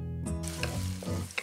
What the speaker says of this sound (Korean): 먼저 파를 달달 볶아 향긋한 파기름을 낸 다음